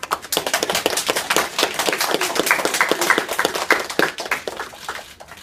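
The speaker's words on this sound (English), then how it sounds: "Can we give this Hype a big round of applause?" A small kindergarten group claps for a soldier's surprise homecoming, with distinct, close, uneven hand claps that keep going through the whole stretch without talk.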